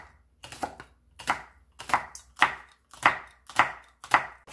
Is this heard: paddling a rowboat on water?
no